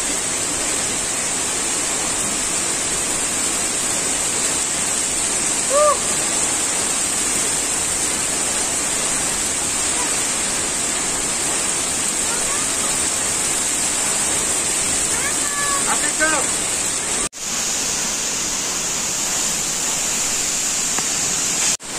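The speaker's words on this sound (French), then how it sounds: "Petit cours d'eau naturel qui tombe comme ça, tranquillou." A small natural stream of water tumbles down in the Austrian mountains, a constant close hiss and rush with no break, and a few faint chirps surface now and then.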